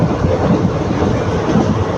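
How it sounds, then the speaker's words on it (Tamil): Superfast express train running at about 100 km/h on the Karur–Palakkad line, heard as a loud, steady broadband rumble with rhythmic wheel-on-rail pulses and no talk. "சூப்பர் ஃபாஸ்ட் எக்ஸ்பிரஸ்ஸுங்க இந்த வண்டி வந்து ஸ்காட்டு வேகம் அசுரன்னு சொல்லலாம் நூறு ஸ்பீடில் போதுங்க"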